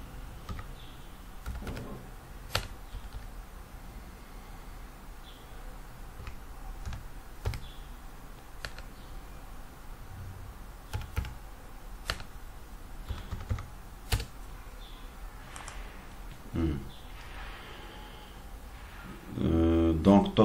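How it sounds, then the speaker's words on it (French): Figures are tapped out on a computer keyboard in irregular bursts of soft, close key clicks with occasional sharper strokes, while a voice speaks quietly over them. "On tape les chiffres d'affaires."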